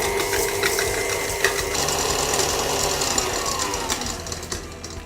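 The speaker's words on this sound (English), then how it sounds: "cover the stand mixer, and then beat it until the butter," A stand mixer beating butter, sugar and eggs, a steady close motor whir with rhythmic rattling of the beaters that eases slightly toward the end.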